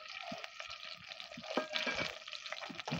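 An onion, garlic and spice paste fries in oil in a wok with a soft, continuous close sizzle and light stirring, fairly quiet and with no speech.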